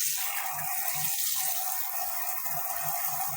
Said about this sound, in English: Now you get a really nice shower.